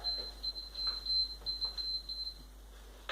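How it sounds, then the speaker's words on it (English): A thin, high electronic beep from a workout timer pulses repeatedly in short bursts, fairly faint, alongside soft background noises and movement. "There goes the beep that says we are"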